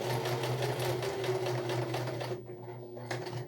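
A sewing machine stitches a trouser seam with a fast, even mechanical chatter up close, then briefly stops and gives a short final burst.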